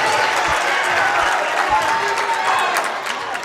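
A crowd at a high school boys basketball regional final cheers and applauds steadily, a dense, continuous roar with clapping, with faint squeaks and bounces underneath.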